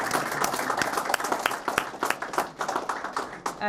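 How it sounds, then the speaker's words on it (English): A round of applause rises from the audience at a book launch about Ardee and the Irish Revolution, a lively, sustained patter of many hands close and fairly loud, alone without talk. "I think you deserve another round of applause for"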